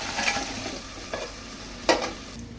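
Prawn curry cooks in a pan with a continuous soft sizzle, broken by a few quick stirring scrapes, the sharpest one near the end.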